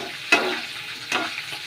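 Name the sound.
stirring onions frying in a pan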